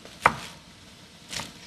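A knife chopping spinach on a board in an Anatolian kitchen, two crisp chops about a second apart, the first sharper, close and clear with no talk.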